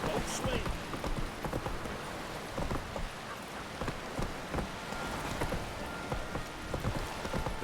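Horse hooves clip-clopping at a steady walking rhythm in The Witcher 3, moderately close under a soft bed of rain-like ambience.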